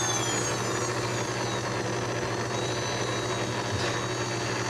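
An RC model F-15 jet engine spools up with a steady, loud turbine roar and a rising high whine, running continuously without any voices.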